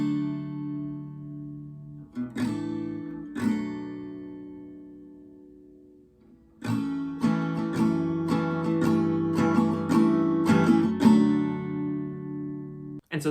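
Acoustic guitar strumming through the third chorus of a song, live version: a few ringing strums, a brief pause, then a run of steady rhythmic strums with sustained chords, close and alone without any voice.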